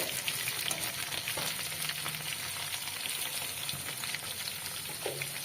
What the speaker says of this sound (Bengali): আলুটা একটু ভেজে নেব লালচে করে